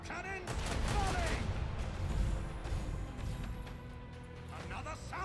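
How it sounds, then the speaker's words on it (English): A macro cannon volley fires in the Warhammer 40K Rogue Trader video game: a heavy rumbling barrage of overlapping booming blasts rolls on for several seconds, loud and dense, then trails off. "Macro cannon, volley."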